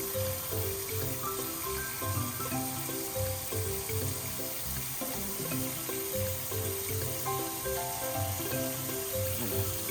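Tap water runs steadily into a container used for cleaning a Gan 356 X speed cube, a continuous splashing flow with shifting gurgling tones and no talk.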